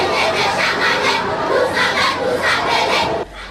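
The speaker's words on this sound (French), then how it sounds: "Leur passage arrache les applaudissements de la tribune officielle" Crowd in an official grandstand cheering and applauding as a children's parade passes, a dense, loud, continuous wash of claps and shouts with rhythmic swells, cutting off abruptly near the end.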